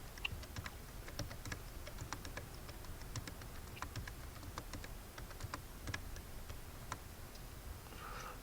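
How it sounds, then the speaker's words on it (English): Rapid, light plastic key presses on a TI-84 graphing calculator, quiet and close, ticking in an irregular stream over soft background hiss with no talking. "I'm just typing these in right now."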